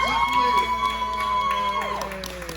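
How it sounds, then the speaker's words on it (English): A comedy club crowd at Ballyhoos in Virginia Beach cheers, whoops and applauds as the MC Lee Flores is welcomed to the stage, a loud continuous burst that tapers slightly at the end. "give her a big round of applause for Ms. Lee Flores"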